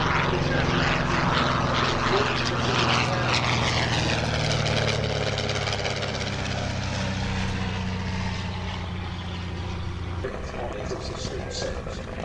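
A vintage propeller aircraft first flown in 1935 drones steadily overhead, its engine loud and sustained throughout before easing slightly near the end, with someone speaking over it.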